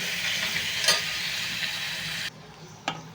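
Onions frying in a pan give a steady, hissing sizzle up close, with a couple of brief stirring clicks. The sizzle drops sharply in volume near the end, followed by one more click.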